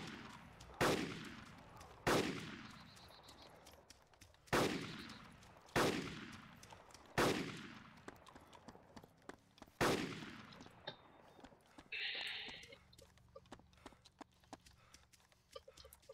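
Several loud, sharp gunshots ring out in the DayZ Epoch video game, single shots spaced at regular intervals and each trailing a short decay, followed by a brief higher-pitched burst and faint background noise.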